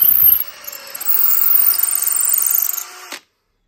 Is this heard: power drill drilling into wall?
yes